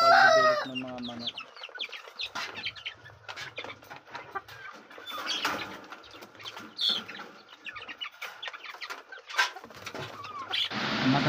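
Backyard chickens cluck and chatter in irregular bursts near and far, with a loud rooster crow at the start and another at the end, and a voice speaks faintly beneath the flock.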